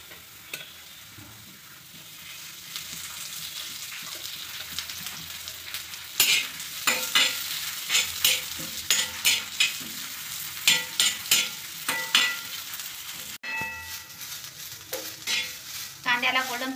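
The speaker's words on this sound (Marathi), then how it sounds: "कांद्याला गोल्डन कलर येईपर्यंत आपल्याला भाजून घ्यायचा आहे" Onions fry in a pan until golden for a village-style egg curry, with a soft steady sizzle joined by repeated clinks and scrapes of stirring that grow busier and louder partway through.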